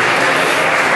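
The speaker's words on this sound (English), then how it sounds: "A lot of clapping." Conference talk audience claps in a brief, loud, dense burst lasting about a second.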